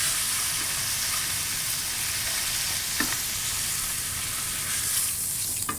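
Steak searing in a hot pan, a loud continuous sizzle and spatter with occasional sharper pops, close and steady throughout.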